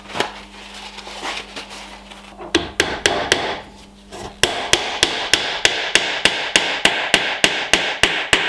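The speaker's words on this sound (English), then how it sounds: "chamfering the end so it's easier to hammer it in" Sharp hammer blows strike wood, a few irregular hits at first, then a steady run of evenly spaced, loud knocks driving a chamfered wooden peg into a mortise and tenon joint of a bed frame.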